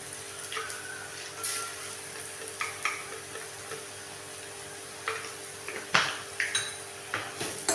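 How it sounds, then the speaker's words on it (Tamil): Onions sauté in a pan for ragi upma, giving a soft steady sizzle broken by repeated scraping and clinking of a spoon against the pan, fairly close and without talk. "ரொம்ப வதங்க தேவையில்லை வெங்காயம்"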